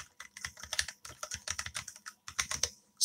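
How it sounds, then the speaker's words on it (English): Fingers type rapidly on a computer keyboard, close up, in irregular bursts of quick clicking keystrokes separated by short pauses, with no voices. "Super weird typing over all this."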